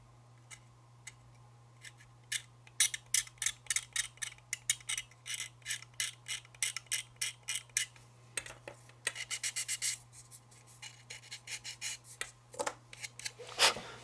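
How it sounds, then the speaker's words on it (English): A blade scrapes the edge of a plastic model part for an F3 locomotive build, dense rhythmic rasping strokes in quick bursts, close and crisp over a low constant hum, with no talking. "Scrape the top edge of that lip."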